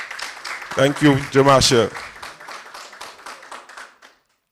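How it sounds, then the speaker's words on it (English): Audience applause at an Independence debate competition, scattered clapping that swells briefly under a speaker's voice and then fades out. "I believe she needs an extra round of applause"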